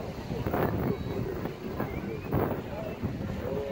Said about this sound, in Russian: Вот сейчас вообще подул ураганный ветер